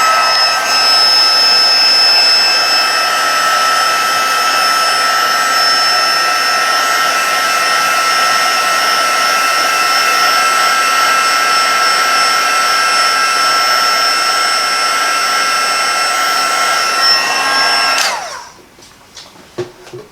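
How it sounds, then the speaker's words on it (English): A heat gun warming embossing powder for stamped gift tags blows with a loud, steady whine and rush of air for about eighteen seconds, then cuts off abruptly, leaving a few faint clicks. "The heat gun can be a bit noisy, but it is a necessity."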